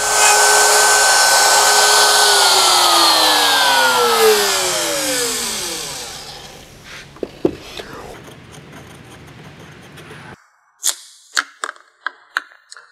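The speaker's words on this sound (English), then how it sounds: "I like to route in a clockwise rotation around the template" A handheld wood router fitted with a guide bushing runs along an inlay template, its loud high whine winding down and falling in pitch until it stops. A few close, sharp clicks and taps follow in the quiet.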